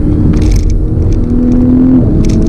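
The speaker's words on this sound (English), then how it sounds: "Downshifting to third." A 2020 Toyota GR Supra 3.0 engine hums steadily, its pitch dropping then rising as it downshifts to third and revs up, with a continuous low rumble of road noise.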